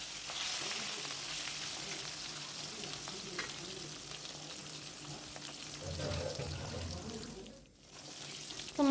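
Katla fish pieces fry in a pan with a soft, continuous sizzle at low volume, with brief clinks and a watery tap-like wash in the background.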